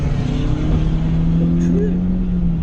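A car engine revs up steadily under acceleration during a driving lesson, a loud, close, sustained drone with a rising whine, with no talk over it.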